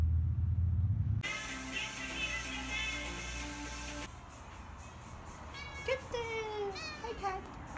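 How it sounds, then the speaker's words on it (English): A small cat meowing a few times near the end, short rising-falling calls following a stretch of steady background noise and hum, with a voice also present. "annoying little kitty back here."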